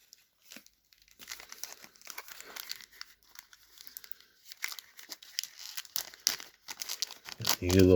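A pack of 1989 NFL Pro Set Series 2 trading cards is ripped open, with crinkling wrapper and tearing in short bursts, close up, that grows louder toward the end.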